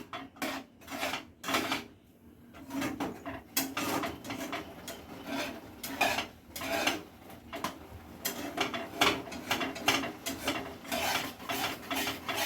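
A kalakand mixture being stirred continuously in a pan, heard as a close, rhythmic series of rasping scrapes, one stroke after another, with a brief pause near the start.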